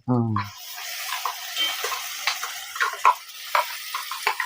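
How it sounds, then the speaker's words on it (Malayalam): Ground coconut paste goes into a pan for a Kerala drumstick-leaf curry, giving soft wet scraping and stirring sounds with light sizzle, close and moderately quiet, after a brief voice at the start. "അരപ്പ് ഇതിലേക്ക് ചേർത്ത് കൊടുക്കും"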